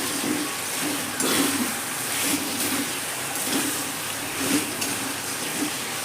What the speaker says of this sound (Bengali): সেদ্ধ করা মটনটা দিয়েও কিন্তু আবার ভালো করে আমি কষিয়ে নেবো মশলার সঙ্গে